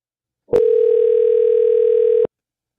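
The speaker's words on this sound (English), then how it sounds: "let's get Mr. Kyle Sullivan on the phone" Steady telephone dial tone sounding alone on a phone line while calling in a sports podcast guest, clear and loud for under two seconds, then cutting off abruptly.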